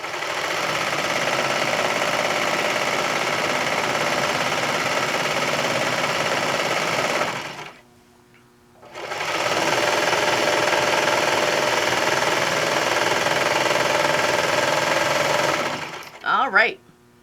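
A serger sewing machine stitches along the edge of a blanket, a loud steady high-speed whir that runs for several seconds, stops briefly, then starts again, with someone speaking at the end.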